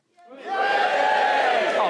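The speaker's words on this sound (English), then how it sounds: "Give us a cheer if you've ever used a semicolon grammatically this year." A television studio audience breaks into loud cheering and whooping. The sound swells quickly from silence and holds as a dense, sustained roar.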